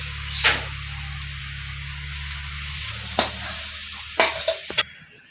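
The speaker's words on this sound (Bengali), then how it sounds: "একটু জল দিয়ে ভাজা করে করে নিব আমাদের কচু সেটে পাতা ভাজা হয়ে গেছে" Taro leaves fry with a splash of water in a pan, giving a steady low sizzle as they are stirred, with a few sharp utensil clinks against the pan near the end.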